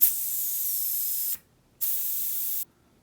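Air hisses out of a mountain bike's tubeless tire valve stem in two close, steady bursts, the first longer, separated by a brief silence, with no talking.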